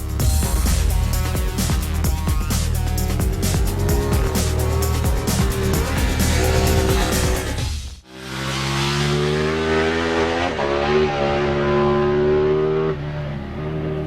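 A Ducati 1199 Panigale superbike accelerating out of a corner at the Mugello circuit, its engine note climbing loudly and steadily, dropping briefly partway through, then rising again with a rising pitch.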